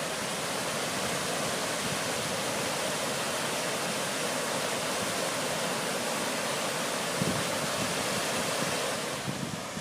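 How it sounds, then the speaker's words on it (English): Water pours over a concrete canal spillway that drains toward a lagoon and the Atlantic, a constant broadband roar and rush that is loud and unbroken throughout, with no voices. "Watch it pour."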